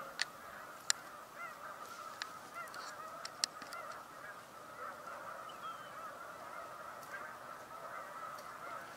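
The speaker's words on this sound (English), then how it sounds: "If you're tired of looking at snow geese, I'm sorry." A large flock of snow geese honks steadily at a distance, a dense overlapping chorus with a few sharper calls rising above it.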